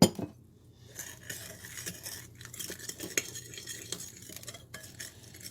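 A sunomono dressing with rice vinegar is whisked in a bowl, utensil clinking and scraping steadily against the sides in a busy, continuous rhythm, close and moderately quiet.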